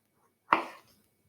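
A knife slices through a quarter of fresh pineapple to remove the core, giving one short, close, crisp chop that fades quickly in a quiet kitchen.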